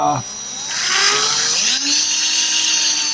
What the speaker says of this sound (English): I'm gonna give two little pilot holes for the